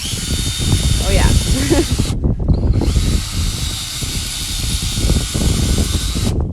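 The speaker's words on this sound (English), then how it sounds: "Sometimes what I'll do is I'll drill it again once I've done the first drill, just to get any little loose pieces out." A power drill bores a tap hole into a maple tree, whining steadily for a couple of seconds, pausing briefly, then running again for several more seconds, with people talking over it.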